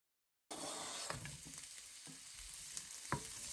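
Red bell pepper sautéing in a pan: a steady, close sizzle starts abruptly and continues throughout, with a few light scrapes and taps of a spatula stirring it.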